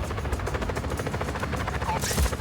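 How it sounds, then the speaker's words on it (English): Helicopter in the video game Just Cause 4, a steady rapid rotor chop thudding throughout, loud and dense, with a brief higher whine near the end. "Helicopter inbound."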